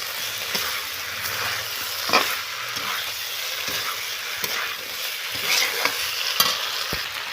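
Fried lentil bori are stirred around a pan with a spatula, giving a steady scrape and rustle over a soft ongoing sizzle, with a few sharper knocks along the way and no talking.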